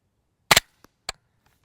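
A suppressed 9mm pistol fitted with a Rugged Obsidian 9 modular silencer fires two sharp, muffled shots about half a second apart, close and loud, with a faint click between them and no talk.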